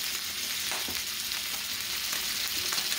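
Two pounds of ground beef fry in a pan for shepherd's pie, giving a steady, close sizzle with scattered pops and no talking.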